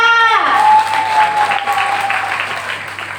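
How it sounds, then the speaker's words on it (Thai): Audience applause for a speaker at a seminar award ceremony, a dense, loud wash of clapping that rises as a voice fades out, then slowly tapers off. "ขอเสียงปรบมือให้กับท่านวิทยากรอีกครั้งค่ะ"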